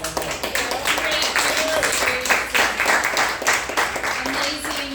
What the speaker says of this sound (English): I also just want to give a special round of applause to Nikki and Michelle